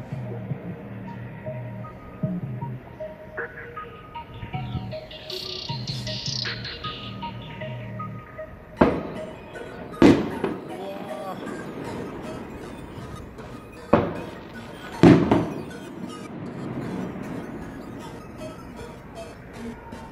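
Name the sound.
fireworks exploding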